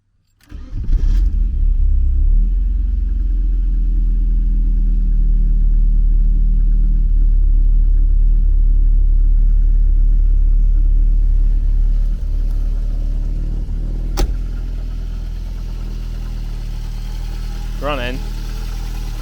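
A long-sitting Porsche 924 engine cranks over, catches and settles into a steady loud idle that runs on, with a brief sharp click partway through and a faint squeal near the end.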